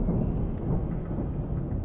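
Thunder from a storm in the video game Alan Wake rolls as a deep, continuous low rumble, heavy and sustained for the whole stretch with no voices over it.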